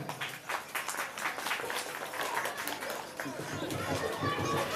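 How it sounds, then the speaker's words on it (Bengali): An audience claps for a performer at a children's school annual programme, a dense, steady patter of applause mixed with crowd chatter and voices. "একটা হাততালি।"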